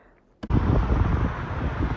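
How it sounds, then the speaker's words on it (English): Cold December wind in Budapest rushes into the microphone after a brief quiet start, a loud, steady low roar that buffets continuously without any talking. "It's a cold, windy day here, December 2022."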